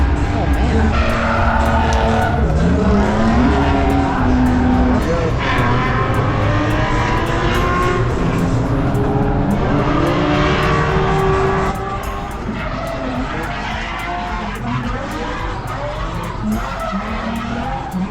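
Nissan 370Z drifting on a ride-along, with long wavering tire squeal and engine revving that rise and fall across the run, loud and close throughout, easing slightly toward the end.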